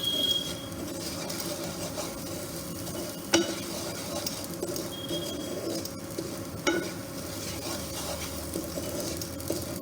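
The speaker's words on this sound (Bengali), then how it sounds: "আপনার সুজিটা ভাজা হয়ে যাচ্ছে" Semolina toasting in a pan with a tablespoon of ghee, a soft continuous sizzle under scraping stirs, with a couple of sharper spoon knocks against the pan, fairly quiet and close.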